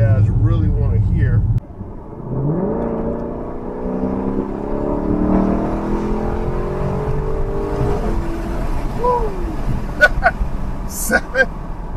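A 2018 Lexus LC500 accelerates on the road, its engine note climbing and holding as it pulls through the gears, loud and close with steady road roar, and a faint shift or blip near the end.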